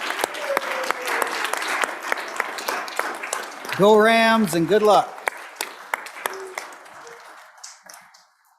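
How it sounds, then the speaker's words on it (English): Applause fills a state Senate chamber for a visiting high school basketball team, crisp scattered clapping running under a brief spoken send-off, then thinning and fading toward the end. "let's give the Bighorn basketball team a big shout out and round of applause."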